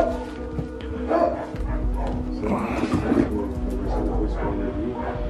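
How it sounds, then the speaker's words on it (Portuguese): Dogs barking at a fence on a rural property, the yaps and woofs rising in short bursts over steady background noise while people talk nearby. "esses cachorros acabam que vem na cerca ali e fica latindo"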